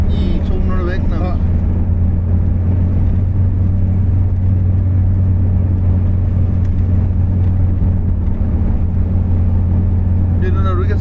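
A Ford Ranchero 500 GT cruises on a test drive, its engine and road rumble a steady, loud low drone inside the cabin, with people talking briefly at the start and end.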